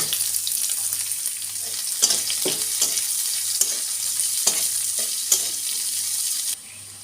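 Garlic and chopped onion frying for aloo potol, a steady hiss of sizzling oil running close and loud throughout, broken by occasional spoon scrapes and knocks before the sizzle drops off near the end.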